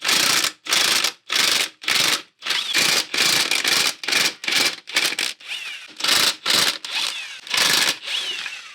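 A ratchet working 15mm bolts loose from the transmission mount of a Jeep TJ, loud, close, rapid clicking in repeated strokes with short pauses between them, no talking.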